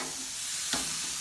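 Food sizzling on a Weber barbecue grill, a soft, steady hiss of frying with one brief louder crackle near the middle, faint and without speech.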